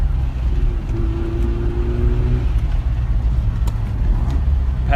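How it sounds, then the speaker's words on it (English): A turbocharged classic Mazda RX-7 accelerates from the cabin, a steady low engine drone with a brief rising whistle as boost builds, close and fairly loud. "There's the turbo coming in."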